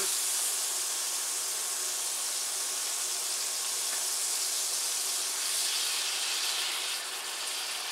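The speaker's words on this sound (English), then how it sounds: "I'll let them go about 5 minutes on each side to get a good sear on them" Pork chops sear in a hot pan, producing a steady, even sizzle and hiss throughout with no voices.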